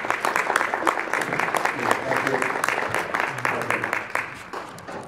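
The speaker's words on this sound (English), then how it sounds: "put your hands together and welcome Mike Guasch with Molecule Labs" A keynote audience at Vapor Dynasty Expo 2014 claps to welcome speaker Michael Guasch of Molecule Labs, a dense, steady round of applause lasting about five seconds with crowd voices mixed in before it thins slightly at the end.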